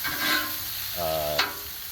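Sirloin steak bites fry loudly on a Blackstone griddle, a dense steady sizzle broken by a spatula scrape as the meat is pushed around, with no voice over it.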